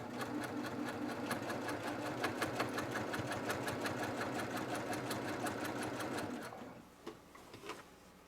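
A Brother PQ 1500 sewing machine stitches quilt binding in a fast, steady, even chatter for about six seconds, then stops, leaving a few soft clicks and handling noises.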